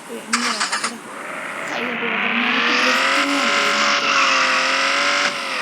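A Porsche 911 drifts in an online car video game, its engine revving steadily with rising harmonic whine and a sustained tire squeal, preceded by a few brief sharp effects, loud and continuous throughout.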